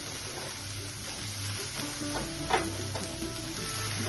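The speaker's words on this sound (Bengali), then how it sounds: "এখন আমি শাকগুলো দিয়ে দিচ্ছি, ভেজে শাকগুলো" Dheki shak fern greens dropped into hot oil in a pan for a Bengali prawn curry, a soft crackling sizzle with a brief clatter midway as the leaves go in.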